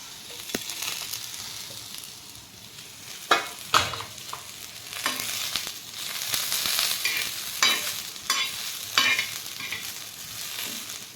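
Ginger and whole spices sizzle steadily in hot oil in a frying pan for a drumstick-pod vegetable dish, with a few sharper stirring scrapes and spatula clinks over the continuous crackling hiss.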